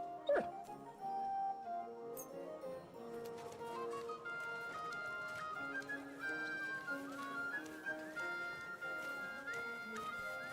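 Mutt the dog in Kingdom Come Deliverance 2 whimpers in soft, high, drawn-out whines over a quiet tonal music bed, with a brief sharp sound at the start.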